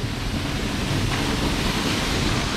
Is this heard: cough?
no